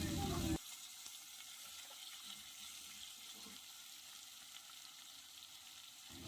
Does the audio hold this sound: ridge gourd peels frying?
yes